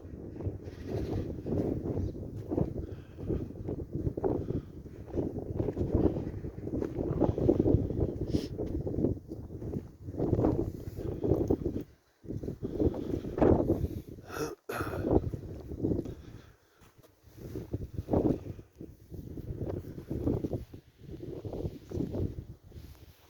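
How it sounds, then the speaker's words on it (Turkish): Cold north wind gusting across an open cattle farm, buffeting the microphone in rough, uneven bursts with brief lulls, loud and close throughout. "Belki de rüzgarın sesini duyuyorsunuzdur. Arkadaşlar kuzeyden esiyor. Çok soğuk rüzgar."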